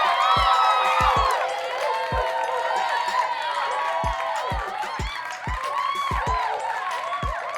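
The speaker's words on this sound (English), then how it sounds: "So, round of applause to Diontae Johnson." A crowd cheers, whoops and applauds in a steady, loud wash of noise with many overlapping voices and occasional low thumps throughout.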